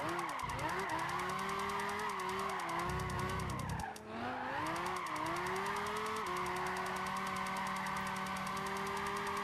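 A Lamborghini drifting in Gran Turismo 5, its engine revving steadily while the tyres slide and squeal almost continuously for the whole stretch, with a brief dip midway before the loud skid resumes.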